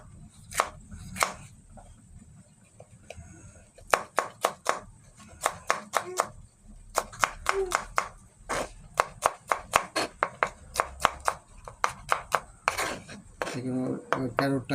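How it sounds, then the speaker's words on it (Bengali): Knife chopping capsicum on a board for a homemade chicken soup, sounding as a loud, close series of sharp cutting thuds in quick bursts, with short pauses between runs. "ক্যাপসিকাম এটাকেও সেমভাবে চপ করে নেব।"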